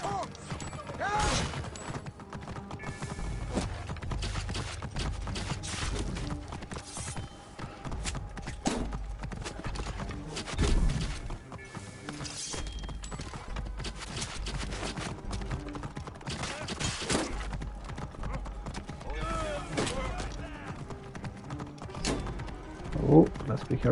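Horse hooves clip-clop along a city street in Assassin's Creed Origins, a steady repeated trot sitting low under game music, ambient noise and someone talking over the gameplay.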